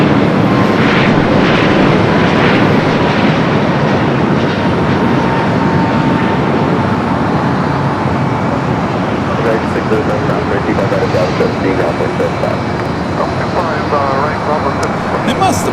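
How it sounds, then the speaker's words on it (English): An 11-year-old Asiana Airbus A380 on Asiana flight 202 from Seoul arrives at Los Angeles airport, a loud continuous roar of engines filling the whole stretch, with a voice talking over it. "First A380 arrival of the day, Asiana. Flight 202 coming up from Seoul, this 11-year-old A380 Super."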